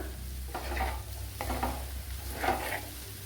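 Coriander powder and spices sautéed in a pan for an ivy gourd coconut milk curry, with a steady soft sizzle and three bursts of spatula stirring and scraping, close and moderately loud.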